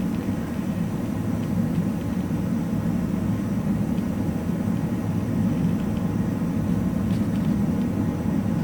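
A Red Arrows BAE Hawk jet on its takeoff roll gives a steady, loud engine roar and rumble, heard as constant broadband noise from inside the aircraft with no talk.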